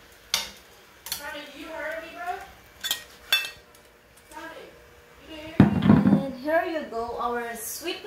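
Cooked sweet potato tops being moved onto a plate at home, with a few sharp clinks of utensils on dishware scattered between a person's talking, close and fairly quiet.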